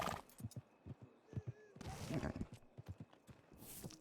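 Horse hooves clip-clop at a steady, even rhythm in Red Dead Redemption 2, close and clear, with a brief louder rushing burst midway and a short noisy flare near the end.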